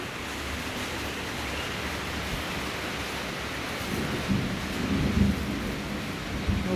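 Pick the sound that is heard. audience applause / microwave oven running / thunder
thunder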